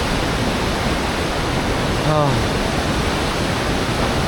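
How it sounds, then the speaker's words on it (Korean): A roaring waterfall beside a mountain trail gives a dense, constant rush of falling water that fills the whole soundscape, loud and unbroken, with one brief faint bird-like chirp partway through. "오른쪽에서 들려오는 이 엄청난 폭포 소리"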